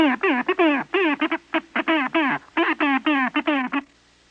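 A voice imitates telegraph code, American Morse rather than International Morse, as a fast string of short and long sung syllables. The syllables are close, loud and choppy, with brief gaps between groups.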